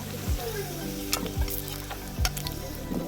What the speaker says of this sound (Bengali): এবার কড়াইয়ের মধ্যে সরষের তেল দিয়ে আলুগুলো দিয়ে দিলাম। আলুগুলো লাল লাল করে ভেজে তুলে নেব।